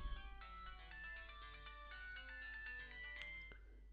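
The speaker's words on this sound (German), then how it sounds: "Ja, das war ihr Handy, oder?" A mobile phone ringtone in the video game American Arcadia plays a steady melodic tune for a few seconds, clear and alone against a low background hum.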